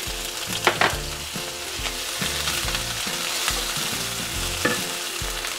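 Chopped onion with green chili and bay leaf frying in oil in a pan for a rohu fish curry, a close, steady sizzle with intermittent scraping stirs and clatter, no talk.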